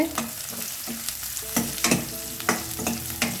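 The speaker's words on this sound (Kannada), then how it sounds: "ಈ ಥರ ಜಜ್ಜಿರೋ ಬೆಳ್ಳುಳ್ಳಿನ ಹಾಕ್ಕೊಳ್ತಾ ಇದ್ದೀನಿ" Crushed garlic cloves fry in a pan for a quick tomato dish, a soft sizzle under irregular metallic scrapes and taps of a spoon stirring.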